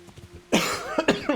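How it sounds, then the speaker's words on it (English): A person coughs close to the microphone: one loud, harsh cough burst followed by two or three shorter coughs after a quiet moment. "I can never stop freaking coughing"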